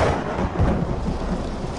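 A thunderstorm with pouring rain on an island near the docks: loud, steady hiss of heavy rainfall with low thunder rumbling underneath, continuous throughout.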